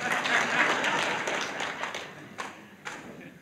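A crowd at a county leaders' gathering claps in a fairly quiet, sustained patter that thins into a few scattered claps toward the end.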